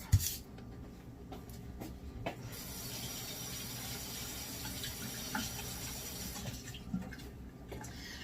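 Bell peppers are rinsed under a running kitchen tap, giving a steady, moderately quiet water rush for most of the clip, with brief handling clatter at the start and end.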